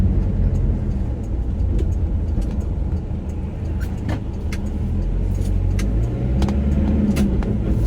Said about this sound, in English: You know, driving this truck never gets old.